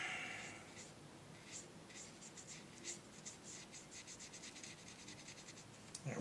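Pen or pencil scratching on paper while coloring in a hand drawing, quiet close-up rapid strokes in short repeated bursts, faint and alone with no talk.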